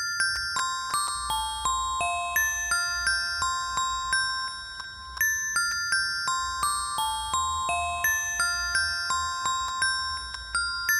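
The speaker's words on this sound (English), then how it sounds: "So I just added some more bells." Bright tuned bells play a repeating melody line layered into a Christmas song, struck notes ringing in a steady rhythm over a low bass pulse, loud and clear with no talking.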